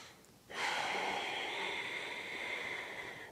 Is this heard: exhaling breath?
yes